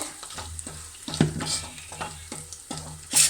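Chili powder, pepper and other ground spices going into sizzling oil in a pan, a soft steady sizzle with repeated scraping and tapping of a spoon as the mix is stirred close by.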